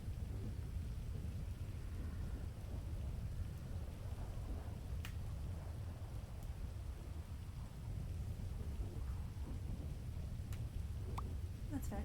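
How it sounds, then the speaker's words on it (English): Heavy, steady downpour roars throughout, with low thunder rumbling beneath it and a few sharp drop or crack transients; no voices. "The rain is pretty loud."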